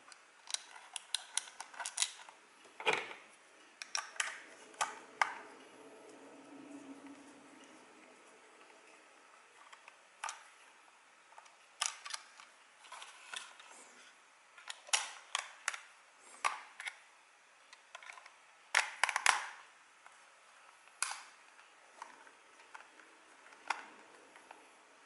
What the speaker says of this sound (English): So I'm going to screw the cover back together.